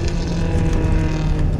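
A truck engine idles loudly and close, a rough continuous rumble with a steady throb and no voices.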